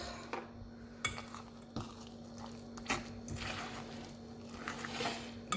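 Cream being stirred into homemade mashed potatoes in a dish for hachis parmentier: quiet, soft squishing with scattered light clinks of a utensil against the dish, close up and irregular.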